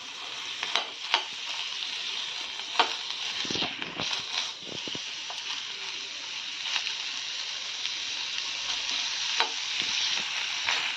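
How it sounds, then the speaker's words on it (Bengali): Banana stem stir-fry with mustard paste being stirred in a pan, a steady frying hiss under repeated spatula scrapes and clacks, close and continuous, with no voices. "ভালোভাবে নাড়াচাড়া করতে হবে এখন, না শুকনো পর্যন্ত।"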